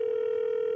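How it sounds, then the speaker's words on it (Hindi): A steady telephone dial tone hums alone, one continuous unbroken pitch heard close and clear while a call is placed on a comedy show. "दूसरे कॉलर को फोन लगाते हैं"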